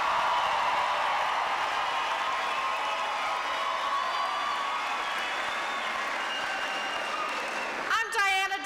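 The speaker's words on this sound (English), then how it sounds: "Let's give her a big round of applause." A large crowd at a 1996 Denver political rally applauds and cheers in a dense, sustained roar that holds steady, then breaks into rougher bursts at the very end.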